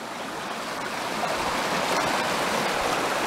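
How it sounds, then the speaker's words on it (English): Creek water rushing down over bedrock beside a gravel bank, a steady broadband wash close by, continuous and fairly loud throughout with no voices. "the creek crosses and washes down through this way, down over this bedrock"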